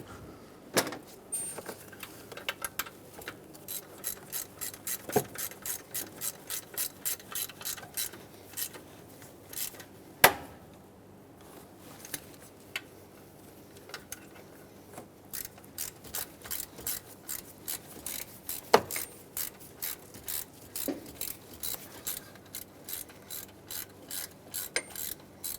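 A hand ratchet tightens the lower intake manifold bolts on a Ford F250 Super Duty 5.4L V8, with rapid rhythmic clicking in repeated bursts, close and clear, broken by a few louder knocks and short pauses.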